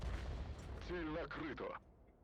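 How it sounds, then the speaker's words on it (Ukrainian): A deep cannon boom from a Bat Châtillon 155.58 artillery tank firing high-explosive shells in World of Tanks rumbles at the start, followed by someone speaking briefly over the fading echo. "Є 100 фугасами стріляє."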